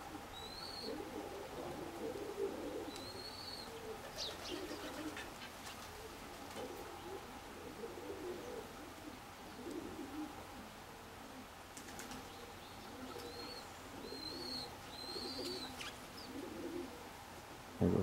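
Domestic pigeons at a loft, soft low cooing repeated in several bouts with occasional wing flaps and faint higher calls, moderately distant and quiet throughout.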